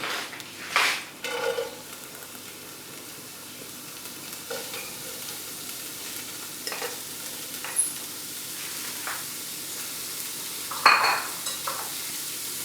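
Chopped leek tipped into a pot for a tofu ratatouille, a soft rustling pour and hiss near the start followed by quiet sizzling and occasional scraping stirs.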